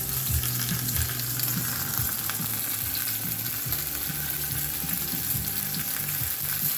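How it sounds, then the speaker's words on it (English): Beef brisket searing in a pan, a steady crackling sizzle of frying meat with a low clattering hum underneath, continuous and close. "So we are searing it"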